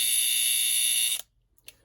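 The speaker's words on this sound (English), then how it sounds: "once the alarm did finally go off" A Telechron alarm clock's bright, continuous electric bell rings steadily for about a second, then cuts off abruptly, followed by near silence and a faint click.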